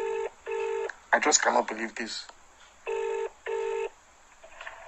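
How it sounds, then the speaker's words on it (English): A landline telephone ringing tone sounds in four evenly spaced electronic bursts, clear and loud, with a voice speaking briefly between them. "Oh, it's ringing now."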